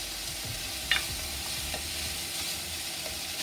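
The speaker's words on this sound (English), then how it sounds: "You can let that sizzle off a bit." Steady sizzle of onions frying in a pan with a soft hiss throughout, a brief stirring scrape near the start, no voices.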